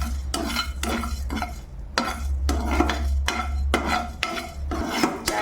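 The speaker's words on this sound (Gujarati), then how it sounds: "આપણા ધાણા અને જીરું શેકાઈ ગયા છે, બહુ બળવા નથી દેવાના" Coriander and cumin seeds roasting in a pan, stirred with a spoon in regular scraping, rasping strokes about twice a second, close and fairly loud over a low hum.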